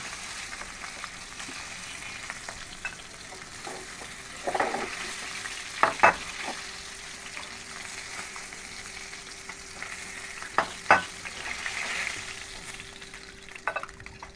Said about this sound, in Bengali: এখন প্রথমে আমি তেলের ভেতর কালো জিরে দিয়ে দিয়েছি, তারপর পরিমাণ মতো পেঁয়াজ দিয়ে দিলাম